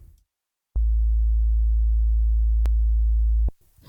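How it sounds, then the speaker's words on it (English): A steady pure sine tone holds at one low pitch for about three seconds, starting and stopping with small clicks, with silence around it. "a pure sine wave is heard."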